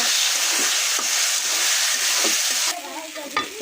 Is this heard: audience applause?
no